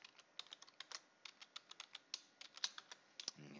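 A password is typed on a computer keyboard in a quiet room, a rapid, fairly even run of light, crisp key clicks with a slightly louder tap near the end. No voices.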